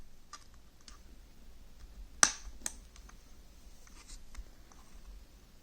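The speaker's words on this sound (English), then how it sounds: "I've got a little screwdriver I'm going to use. Just undo the little click tabs." Small plastic click tabs popped loose with a little screwdriver on a BMW steering-column clock spring module, giving a few faint sharp clicks, one noticeably louder, against a quiet room.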